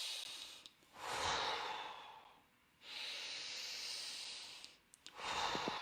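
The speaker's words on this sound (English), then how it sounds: "So you breathe in. Yes. And you release." Someone does a breathing exercise, taking long, audible breaths in and releasing them. Three drawn-out, airy breaths come close by, separated by brief pauses.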